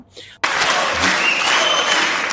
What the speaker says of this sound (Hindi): तालियां देख लो यार, सारा हॉल खड़ा है।